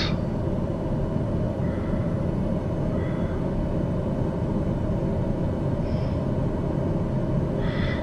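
An airliner descends toward Quad City International with its flaps extended in Microsoft Flight Simulator, giving a constant, even engine and wind drone that holds steady throughout, with faint higher tones drifting in now and then.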